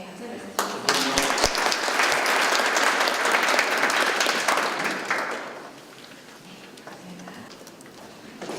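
An audience applauds at a fashion conference in Korea with steady, dense clapping that swells, holds for several seconds, then tapers off into scattered claps and quieter room noise.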